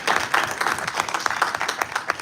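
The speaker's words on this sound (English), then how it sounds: "thank you for the applause" Audience applause at a congressional briefing on human rights in Pakistan: dense, steady clapping from a roomful of people, fairly close and continuous throughout.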